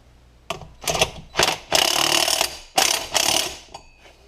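A ratchet clicks in quick bursts while tightening the nut that holds a flywheel during installation, five or six close, loud strokes separated by short pauses.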